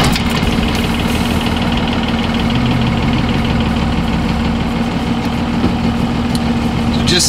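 A vehicle engine idles steadily and close by for the whole stretch, a continuous low hum with a faint knocking rhythm, ahead of a test drive checking a newly fitted steering gearbox.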